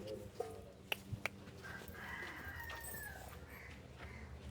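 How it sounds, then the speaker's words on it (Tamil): A rooster and a hen on a farm give several short, sharp clucks, followed by a longer drawn-out crowing call at moderate distance, over a quiet background. "ஸோ இதுக்குள்ளே ஒரு 2 கோழிக்கிட்ட நிற்கிது, 2 தான் நிற்கிது. ஆமாம், ஒரு சேவல் ஒரு பேடு."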